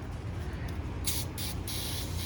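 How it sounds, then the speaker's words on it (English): Several short hissing bursts from a spray can of lubricant onto a rusty, failed wheel bearing on a 2005-2012 Ford Fusion, close and fairly loud, over a steady low background hum. "Give her a little spray down"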